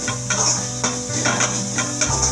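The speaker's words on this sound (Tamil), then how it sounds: "பொடிசா கட் பண்ணி வச்சிருக்கிற பீன்ஸ் போட்டு நல்லா இந்த மாதிரி கிளறிக்கணும்." Chopped beans and carrots stir-fried in a pan for cauliflower fried rice, giving a steady sizzle with repeated scraping and clinking strokes of the spatula, close and alone with no talking.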